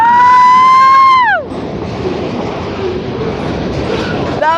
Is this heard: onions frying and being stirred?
no